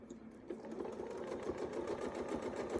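Sewing machine stitching a quilt with a wreath ruler template, running at a steady, rapid needle rhythm close by, fairly quiet, with no talking over it.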